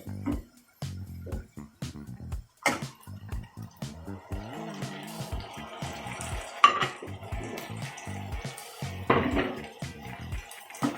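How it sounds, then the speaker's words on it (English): Tomatoes go into a pan of browned onions while a chicken curry is cooked. A faint sizzle runs under scattered clinks, knocks and scraping of utensils against the pan, with one sharper clatter midway. "I will now be adding tomatoes."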